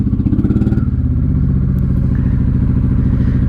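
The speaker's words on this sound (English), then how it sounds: "She seems to be idling just perfect" A 1995 Honda Shadow VLX 600 V-twin idling close by, a deep steady loping rumble with rapid regular pulses and a brief rougher burst at the start.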